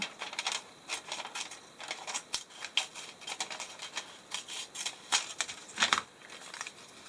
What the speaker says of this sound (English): So I am going to go ahead and trim that.